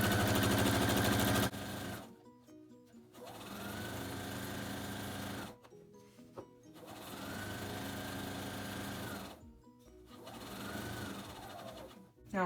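A sewing machine runs a straight seam along a pillow's raw edge, three long steady whirring bursts with brief pauses between them, close and loud, with no voices.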